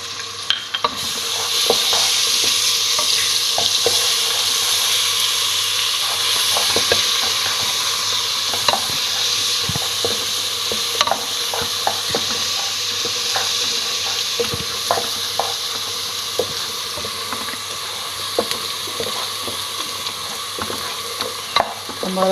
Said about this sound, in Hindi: इस स्टेज पे आके हम इसमें लहसुन अदरक का पेस्ट डाल देंगे